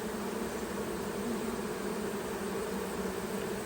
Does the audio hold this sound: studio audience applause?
no